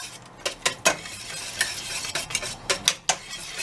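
Crepe batter is whisked in a bowl, with a series of sharp scraping and clinking strokes against the bowl in an uneven rhythm, close and moderately loud, no voices.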